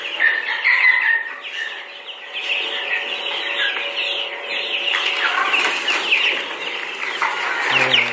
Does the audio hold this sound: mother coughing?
no